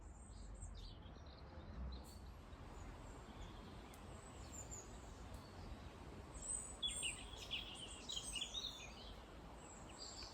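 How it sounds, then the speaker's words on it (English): Birds chirp and sing in a cottage garden in autumn, faint scattered calls over a quiet hiss, with slightly busier song in the second half. "The birds have started singing again."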